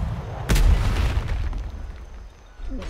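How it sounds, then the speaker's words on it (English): A cannon in a video game fires a cannonball at pillars, one loud booming blast that trails off into a rumbling decay, followed by quieter scattered game noise. "I'm just using cannonballs to finish off the pillars so we don't waste the pillars."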